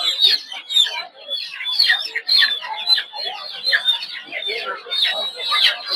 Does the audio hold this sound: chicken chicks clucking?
yes